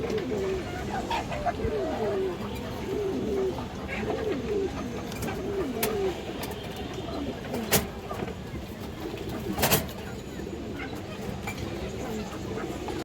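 Male pigeons of a large-sized breed coo in a steady, repeating rhythm close by, with occasional sharp knocks and faint background noise.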